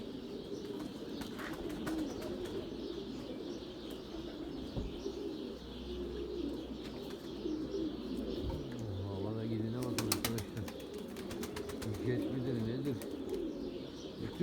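Pigeons coo in low, rolling calls amid steady outdoor chatter and chirps, with people talking nearby throughout.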